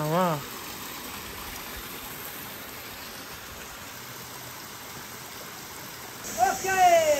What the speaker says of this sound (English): Here we go, village waterfall.